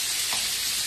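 Shrimp and scallops sizzle in a hot pan as they are turned, a steady close frying hiss with a brief soft stirring scrape, no talking.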